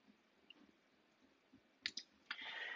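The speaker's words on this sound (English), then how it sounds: "Click save." Mouse clicks on a computer while saving in app-building software, a few sharp, close clicks in quick succession against near silence, followed by a soft, steady hiss.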